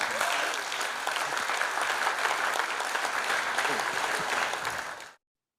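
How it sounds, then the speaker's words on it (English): Sustained applause from a conference audience at a cybersecurity plenary session, dense and steady for about five seconds before cutting off abruptly, with no talk over it. "Please give him a very hearty round of applause"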